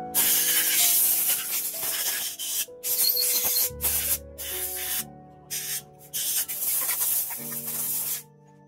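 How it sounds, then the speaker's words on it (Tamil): Chemical cleaner sprayed in repeated short hissing bursts into the throttle body of a Honda Activa BS6 scooter, loud and close, with brief pauses between sprays. "நம்ம அந்த மாதிரி கெமிக்கல் ஸ்ப்ரே வச்சு தான் நம்ம வந்து க்ளீன் பண்ணிடுவோம்."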